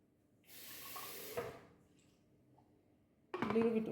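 Water runs from a tap in two short bursts for rinsing while cooking pumpkin leaves and beef meatballs, a soft hiss followed by a louder splashing gush.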